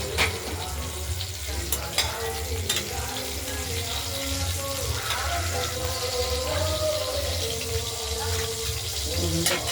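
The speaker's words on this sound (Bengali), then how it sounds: "টমেটোটা দিয়ে দিলাম, কেটে কেটে কুচি কুচি করে দেবো। তেলে একটু গলিয়ে নেবো" Chopped tomatoes frying in oil over potatoes for a katla fish curry, a steady close sizzle running throughout with intermittent utensil clatter and scraping.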